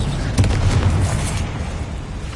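Spell explosion from Hogwarts Legacy on PS5: a loud, close burst that blooms into a broad rumbling boom and tails off over about two seconds, alone.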